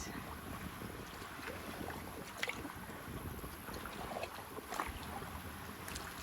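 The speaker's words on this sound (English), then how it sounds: "You can probably hear the Salvinia underneath the boat." Floating Salvinia water plants scrape and rustle under a kayak gliding through a narrow path on Caddo Lake, a soft, steady hiss mixed with light wind noise and a few faint knocks.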